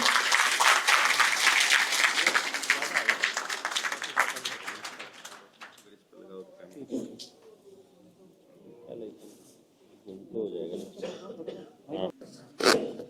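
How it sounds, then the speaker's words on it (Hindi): Loud audience applause at a training session welcomes Dr. Devendra Balhara. Dense clapping runs for about six seconds, then stops and someone speaks. "डॉक्टर देवेंद्र बल्हारा जी हम सबके बीच जोरदार तालियों के साथ स्वागत करेंगे"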